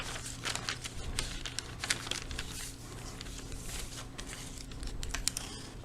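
Pattern paper handled and added while drafting a back bodice side dart, giving continuous close crinkling and rustling with soft taps and brief crackles, no talking.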